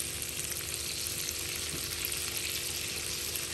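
Paneer added to a hot pan for paneer butter masala, giving a steady, even sizzle and fry hiss throughout, close and unbroken, no one talking.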